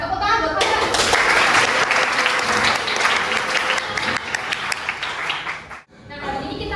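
Students applauding a classmate in a classroom: a loud, close burst of many hands clapping that swells, tapers off and stops briefly near the end, with voices mixed in.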